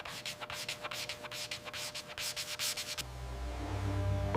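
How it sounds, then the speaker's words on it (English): Sanding strokes smooth a wooden desk structure close up, a rhythmic back-and-forth rasp for about three seconds that then gives way to a smoother, steadier rubbing. "The structure is leveled and smoothed before the carving begins."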